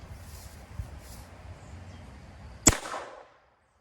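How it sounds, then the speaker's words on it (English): .410 shotgun pistol test fired outdoors: one sharp, loud gunshot crack after a quiet stretch, followed by a brief echoing tail fading into silence. "So let's go ahead and shoot it and see how she works."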